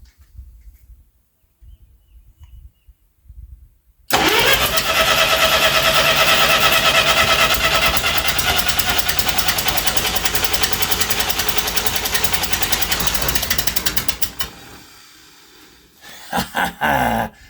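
After a quiet start, an old tractor engine cranks loudly and steadily for about ten seconds with a rough, chugging churn while trying to start, then stops, followed by a few short bursts.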